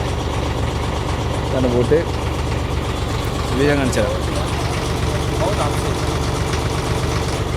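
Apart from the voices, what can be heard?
boat engine idling at a dock in the UAE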